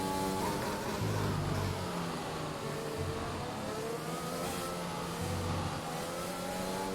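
An F1 race car engine in the video game F1 2021 revs and climbs through the gears, its buzzing tone repeatedly rising and stepping back down, loud and continuous with no voices.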